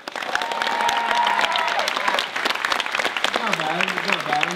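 A magic show audience clapping and cheering on cue, a burst of dense applause that fades after about two seconds, then scattered claps continue under a performer's talking.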